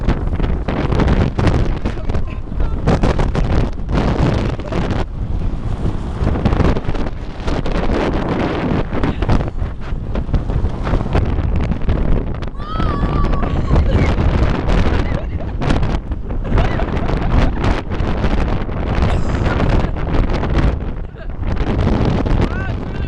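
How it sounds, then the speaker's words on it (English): Strong hurricane wind roars at Haeundae beach, buffeting the microphone in loud, continuous gusts throughout, with people talking excitedly under the howl. "It's really windy."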